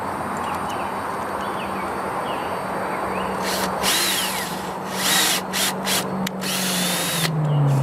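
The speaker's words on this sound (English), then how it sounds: "Then I'll run my screws through here." A power drill drives screws into wood while building a chicken tractor, the motor whirring in several short bursts of varying length close by, with faint birdsong in the background.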